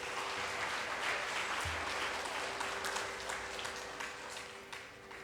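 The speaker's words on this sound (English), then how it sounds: "Give a big round of applause to the students first." Audience applause for music school students at a school event, a dense, steady wash of many hands clapping throughout, fairly loud and sustained before easing slightly at the end.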